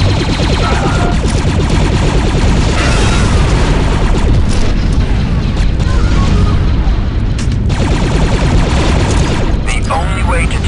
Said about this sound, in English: take the thermal detonator grenades from the ammo pallet and destroy that gun